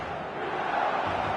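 A roaring stadium crowd in the eFootball video game on match day makes a loud, sustained swell of massed cheering voices across a brief moment.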